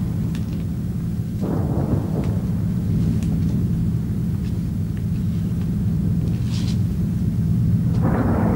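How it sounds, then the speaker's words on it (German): A massed formation of hundreds of aircraft passes overhead as a deep, continuous roaring rumble that fills the air, steady and heavy throughout with no voices. "Das sind Flugzeuge. Viele. Hunderte."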